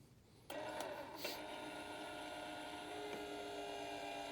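An electric trailer jack motor runs steadily as it lifts a trailer's weight, a constant whirring hum starting after a brief quiet lead-in and holding level to the end, close by with no talk.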